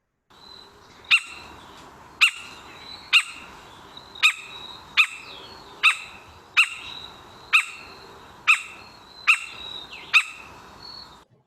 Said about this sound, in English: That's the Puerto Rican woodpecker.